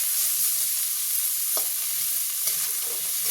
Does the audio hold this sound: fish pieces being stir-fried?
yes